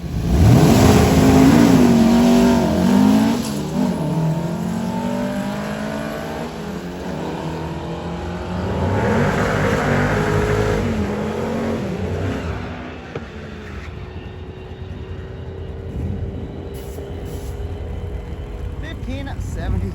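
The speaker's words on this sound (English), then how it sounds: "The old Volkswagen bus, dude." An old Volkswagen bus engine revs hard at a drag strip, loud and close at first with rising and falling pitch sweeps, then settling into a steadier drone as it pulls away, while people talk over it.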